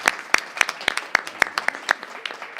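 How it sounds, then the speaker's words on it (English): Audience applause at a board of education work session, a sparse, regular run of distinct claps from a small group in a room, moderately loud. "a big round of applause"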